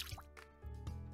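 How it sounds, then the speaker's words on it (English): Kale plots being watered in a video game, a few short bubbly drip and pour blips with a musical bed underneath. "you got to water"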